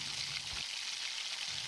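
Plantain frying in hot oil in a pan gives a steady, broadband sizzle throughout, even and fairly quiet with no voices.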